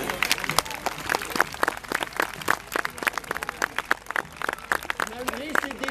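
A crowd at a medieval jousting tournament claps in sharp, uneven bursts while a voice speaks over the applause throughout.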